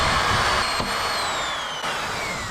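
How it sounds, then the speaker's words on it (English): A spot weld drill bit, its tip seated in a pilot hole, cuts out spot welds in a Nissan 240SX transmission tunnel, giving a steady, loud, close whirring drone that holds throughout with slight dips in pitch. "we'll use the spot weld drill bit"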